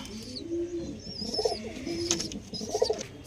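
Punjabi pigeons coo in low, rolling bursts, two clear rounds close by, with faint chirps and twittering from other birds in the background.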